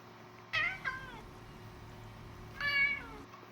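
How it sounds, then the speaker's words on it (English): Two distinct cat meows, a short one followed by a longer drawn-out one, clear and fairly close against a quiet, low background hum. "there sitting at the foot of your bed is a cat that wasn't there before"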